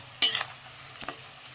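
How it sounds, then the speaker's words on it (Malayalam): A spoon stirs fried tuna pickle with turmeric in a pan, giving one sharp scrape followed by a softer second stroke over a faint sizzle, close and brief with no talk. "നന്നായിട്ടൊന്ന് ഇളക്കി വരിക."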